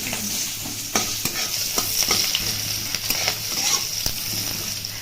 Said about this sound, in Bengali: ফোড়নে গোটা জিরে দিয়ে দিতে হবে কুচনো পেঁয়াজ এরপর এটাকে ভেজে নিতে হবে